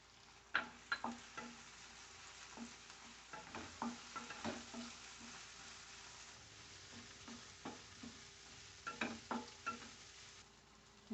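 Tomatoes fry in a pan with ginger garlic paste, a soft steady sizzle broken by a few scraping stirs, close up with no voices.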